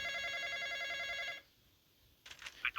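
A telephone rings in a horror video game set in a graveyard, a fairly quiet electronic trill holding steadily for over a second before cutting off, followed by brief clicks and rustles.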